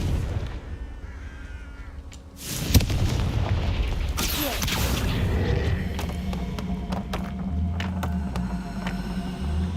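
A Confringo spell explosion in the video game Hogwarts Legacy lands as a single loud boom with a sharp crack. A steady rumbling, crackling roar follows and carries on to the end, with no talking.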